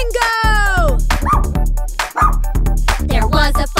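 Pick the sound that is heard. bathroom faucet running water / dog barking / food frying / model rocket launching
dog barking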